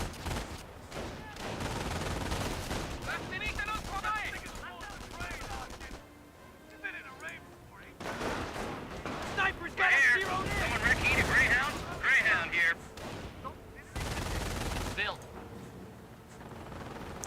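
Gunfire crackles through a Company of Heroes World War II battle as a rifle squad comes under fire, bursts of shots and machine-gun rattle recurring across the clip beneath near-continuous talk from a commentator.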